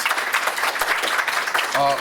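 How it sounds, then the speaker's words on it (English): Brief audience applause in a lecture hall for two guests at a talk on eighteenth-century French bookbinding, steady clapping over two seconds with a voice starting at the end. "please give them a round of applause"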